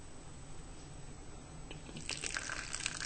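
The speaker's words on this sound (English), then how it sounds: "And then you add literally a little dribble of water." A little water dribbles into pie dough in a bowl, a faint, close trickle with light splashy drips that grows stronger over the last second after a quiet start.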